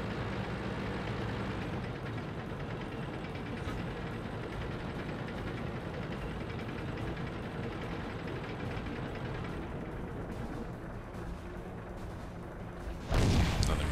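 A tank rumbles steadily in World of Tanks, its engine and tracks a constant low drone, until one loud, heavy gun blast cracks out near the end.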